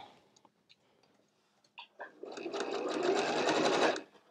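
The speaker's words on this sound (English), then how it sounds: "I am going to go back and do a few back stitches there, just so I don't have to worry about, you know, the end coming apart" A sewing machine backstitching the end of a fabric drawstring pouch, with a few soft clicks and taps followed by a close, steady whirring run of stitching that stops abruptly.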